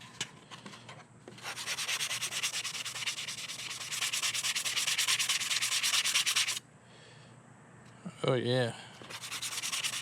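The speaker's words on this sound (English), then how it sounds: "I got this Gator Fine little sander, and we're gonna run over it and see how that looks" A small Gator Fine power sander buzzes steadily over a primered 3D-printed mask, loud and close, then cuts off briefly. A voice speaks a short exclamation before the sanding resumes.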